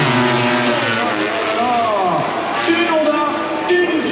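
MotoGP racing motorcycles, a Honda, a Ducati and a KTM, scream past at the Grand Prix de France, their high engine notes rising and falling loudly with shifting pitch under excited commentary.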